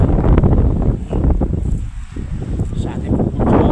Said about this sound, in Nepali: हावा झरिन्छ